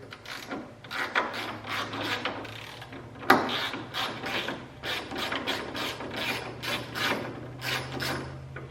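On a Chevrolet Tahoe, a ratchet clicks steadily as screws are broken loose, the rapid pawl ticks continuing with a sharp crack near the middle, close and alone.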